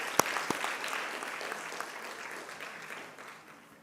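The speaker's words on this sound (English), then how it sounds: "I think a round of applause." An audience at an aviation awards ceremony applauds in a steady wash of clapping with a few sharp near claps at the start, slowly fading.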